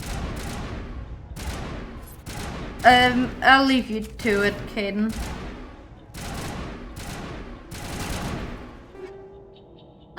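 Bursts of gunfire from the video game Mass Effect, Legendary Edition, crack out in a repeated series of sharp shots, with a louder cluster in the middle, under and between people talking.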